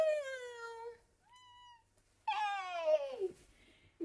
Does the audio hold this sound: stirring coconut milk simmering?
no